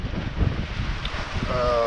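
Strong north wind buffeting a sailboat sailing off Greece, a low rumbling roar of gusts against the microphone with water and boat noise beneath, steady and close, a voice briefly audible near the end.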